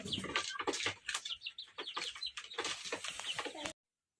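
Chickens on a farm clucking steadily, with several hens calling close by in overlapping bursts throughout, no talk, before the sound cuts off abruptly near the end.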